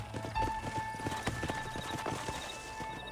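Horses' hooves clip-clop in a steady, close rhythm as riders dismount in the Western game Red Dead Redemption, with a brief whinny and light background music.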